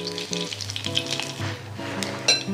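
Beef brisket and bean sprouts sizzle and fry steadily in a hot pan, a continuous crackling hiss with light stirring clatter and a brief sharper burst near the end.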